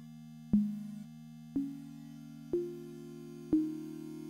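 Logic Pro X EFM1 FM synth tone with a sharp attack and full sustain, played as four separate notes about a second apart, each stepping slightly higher in pitch, thin and clean, with no voice over it.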